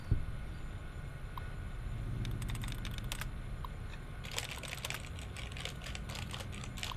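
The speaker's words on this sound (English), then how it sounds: "Oh, stop typing." Computer terminal typing in the video game Fallout New Vegas: rapid bursts of clattering keystrokes that come in flurries and pauses over a faint steady background.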